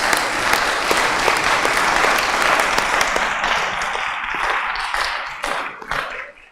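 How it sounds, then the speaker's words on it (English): An audience at the World Trade Forum 2023 gives the panelists a sustained round of applause, dense and fairly loud, thinning out toward the end. "let's give a round of applause for our panelists"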